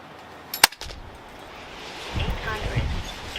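A single sharp, close crack from a Daystate Huntsman Revere .22 air rifle fired from a rest outdoors on a windy day, followed by a short quiet and then a rising rush of wind noise.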